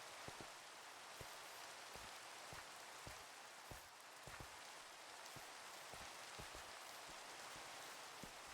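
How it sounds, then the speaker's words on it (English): Rain falls steadily in a Minecraft-style survival game world, a soft continuous hiss with occasional louder drip or tap sounds spaced irregularly, faint and alone with no talking. "See, the rain came on quite quickly."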